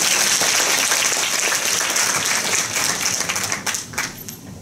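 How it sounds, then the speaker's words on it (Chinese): An audience at an architecture lecture claps steadily to welcome the speaker, dense even applause that thins toward the end with a few scattered final claps. "请掌声欢迎"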